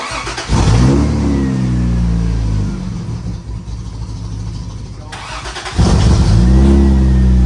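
A Toyota Supra engine, not driven in a while, cranks and catches, revving loudly, drops to a rough idle, then roars up again with another strong rev, close by.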